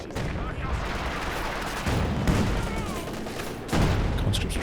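Machine gun fire and other battle guns crackle in a Company of Heroes 2 match, as dense continuous rattling volleys with booming bursts under a caster's commentary.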